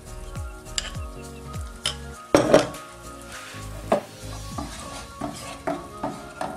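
A spoon stirs a Moroccan fish pastilla mixture in oil in a pan, knocking and scraping against the metal in repeated strokes over a low sizzle, with one louder clattering clink partway through.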